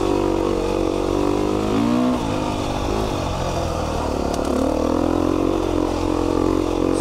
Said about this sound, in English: The other thing I love about this beta is the 390 motor.